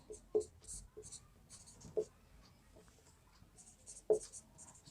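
Hand writing a maths formula, with pen strokes scratching in short spaced bursts and a few light taps, close and quiet.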